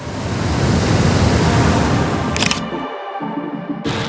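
Rushing water from the upper waterfalls in Canada, a loud, steady broadband roar that fills the whole clip with only a brief dip near the end.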